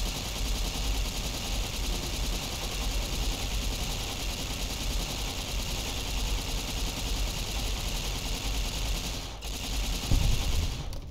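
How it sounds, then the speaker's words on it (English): Nuclear bombs detonating in the video game Fallout New Vegas give a steady, dense roar of rumbling explosions and rattling gunfire, with a louder low boom near the end. "let's detonate some more nukes,"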